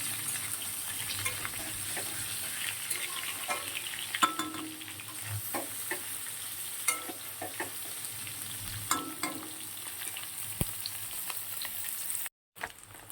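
Cauliflower pieces frying in oil, a quiet continuous sizzle broken by spatula stirs and scraping clicks against the pan, no voices, ending in a brief dropout.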